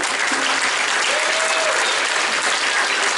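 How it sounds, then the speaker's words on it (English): Dense audience applause in a school auditorium during a sixth-grade scheduling night, a loud, even roar of many hands clapping at once, unbroken from start to finish, with faint voices barely audible beneath it. "give them a round of applause"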